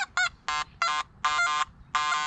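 A Nokta Mini Hoard metal detector emits a series of buzzy, pulsing tones in short bursts over a screw, some longer than others, fairly close and steady in loudness.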